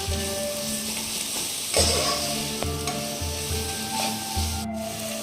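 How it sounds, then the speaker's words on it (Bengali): Spice masala coloured with Kashmiri chilli powder frying in a pan for a chicken curry, a strong continuous sizzle under repeated scraping and rubbing stirs, close and loud throughout. "এবার খুব ভালো করে আবার কষাবো মশলাটাকে আবার খুব ভালো করে কষিয়ে নেব"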